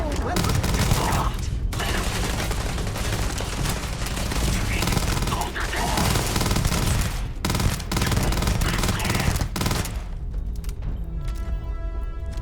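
Weapon fire in the space game Starfield: dense, sustained bursts of automatic gunfire and impacts with brief gaps, loud and close, as in a chaotic firefight.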